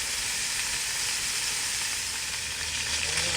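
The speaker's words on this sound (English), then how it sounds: "I do want to get a good sear on the outside of these" Meat sears in a hot pan, giving off a steady, dense sizzle and hiss that holds unbroken at close range, with no talking.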